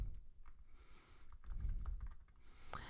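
A computer keyboard tapped in a short run of soft, uneven clicks, quiet and close over a faint low background rumble.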